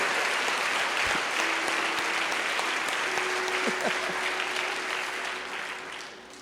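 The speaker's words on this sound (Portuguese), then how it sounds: "Vamos aplaudir." A church congregation applauds steadily, a dense wash of many hands clapping that holds for several seconds and tapers off near the end, with no voices over it.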